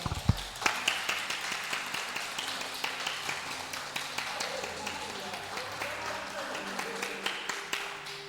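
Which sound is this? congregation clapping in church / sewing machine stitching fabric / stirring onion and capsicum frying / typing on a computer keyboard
congregation clapping in church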